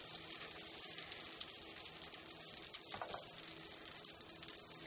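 Butter sizzles and fries steadily in a medium skillet with Brussels sprouts cooking in it, a dense continuous crackle close by with no one speaking.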